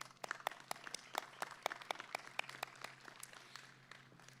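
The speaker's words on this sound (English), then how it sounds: "let's have an applause for the families" A small graduation crowd gives the families scattered, irregular clapping that sounds fairly faint and distant, tapering off after a few seconds.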